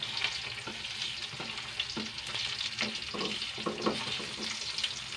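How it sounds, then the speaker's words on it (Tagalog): Onion and aromatics sauté in a pan with a soft, steady sizzle and frequent scraping taps of a spatula stirring them, close and fairly quiet. "igisa natin ng maigi ang ating mga recado"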